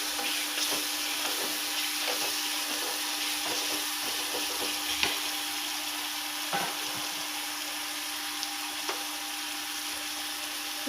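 Ingredients for an Andhra-style gongura tomato curry fry in hot oil with a steady, even sizzle, broken by occasional light scrapes and clinks of a stirring utensil, close up and without talk.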